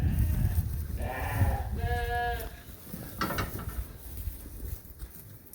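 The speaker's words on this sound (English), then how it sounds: "that's a real nice sheep right there actually too." A sheep in a farm pen gives one clear, wavering bleat near the middle, set against low rumbling background noise and faint shuffling sounds.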